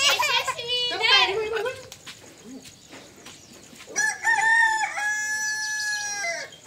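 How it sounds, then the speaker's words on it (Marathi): A rooster crows loudly nearby, a long drawn-out call, following some clucking and a voice speaking. "कोंबडा आरवलं बघ."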